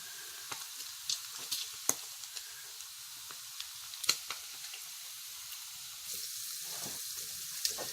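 Grease sizzles and spits steadily in a frying pan on a stove, a continuous bright hiss broken by scattered sharper pops and crackles, close and fairly quiet with no talking.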